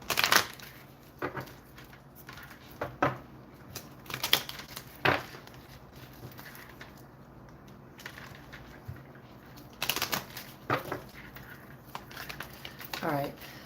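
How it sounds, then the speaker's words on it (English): Tarot cards are shuffled by hand in short, papery bursts of riffling and snapping, separated by quieter gaps, fairly close and soft overall. "Cards are so hard to shuffle."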